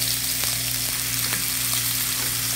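Ground turkey fries in a hot pan, giving a dense, steady sizzle that stays loud and close throughout with faint scrapes of stirring and no voices.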